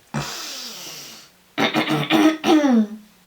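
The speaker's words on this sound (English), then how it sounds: "Let me clear my throat." A person clears their throat nearby: a raspy exhale, a pause, then a few gruff rumbling throat-clearing bursts in quick succession.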